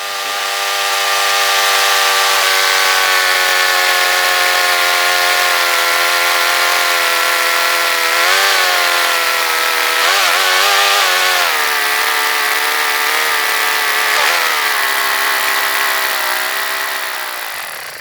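Honda HRX217 lawnmower engine cranking and settling into a steady, loud running drone with a harsh buzzing tone, briefly wavering in pitch a few times as it runs alone without speech.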